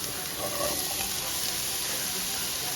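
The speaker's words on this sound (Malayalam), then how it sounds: "ഇതിലേക്ക് ഒരു വലിയ ടേബിൾ സ്പൂൺ നിറഞ്ഞ ഇഞ്ചി വെളുത്തുള്ളി ചതച്ചത് ഇട്ട് കൊടുത്ത് ഇതിൻ്റെ പച്ചമണം മാറുന്നത് വരെ ഒന്ന് വഴറ്റി കൊടുക്കാം" Crushed ginger and garlic sautéing in hot coconut oil for Malabar masala chattipathiri, a steady close sizzle and hiss running the whole time with no talk.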